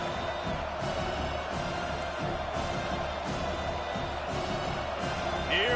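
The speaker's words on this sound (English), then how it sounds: "Here comes this home crowd as the defense tries to get off the field on 3rd down." Home crowd at a college football game between WKU and Miami roaring steadily in the stands, a broad continuous wash of cheering and whoops that swells near the end under a commentator's voice.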